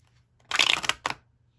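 A deck of playing cards being shuffled by hand with a broken fingernail, two quick riffling bursts, the first longer and fuller, the second brief, close and fairly quiet in a still room.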